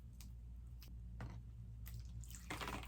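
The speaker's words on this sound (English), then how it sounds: "I'm just gonna water this from the top." Water poured from the top into a potted Baltic Blue pothos, soft intermittent splashes and trickles in short bursts, close and quiet, ending in a fuller pour.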